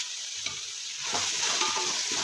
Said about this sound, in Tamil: நல்லா வதக்கணுங்க நல்லா வதக்கினா தான் பிரியாணி நல்லாயிருக்கும்